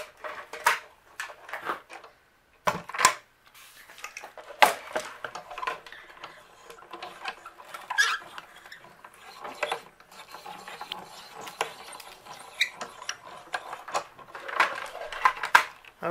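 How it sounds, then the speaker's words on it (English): A die cutting machine cranks a press plate through, giving repeated ratcheting clicks and gear rattles in an uneven rhythm, close and fairly quiet, with one brief pause. "I'm going to bring in my die cutting machine and we're going to run this through."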